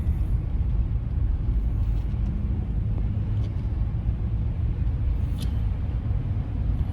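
A Honda Civic cruises along a road toward a small town in wintry conditions, a steady low rumble of engine and tyre noise that holds for several seconds with no voices.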